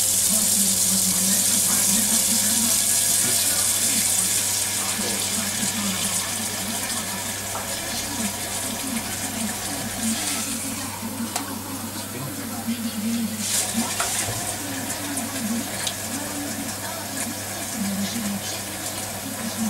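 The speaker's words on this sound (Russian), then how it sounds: "Дальше мы заливаем водичку в водяной затвор для того, чтобы дым не пошел через крышку." Water poured from a mug into the water seal channel of a gas smoker's lid, a continuous trickling and splashing stream running alongside a low hum, with a brief louder gush partway through.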